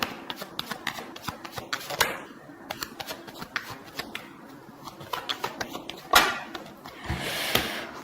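Tarot cards are shuffled close by in a steady stream of crisp riffling and slapping bursts, with louder flurries near the end, and no one speaks.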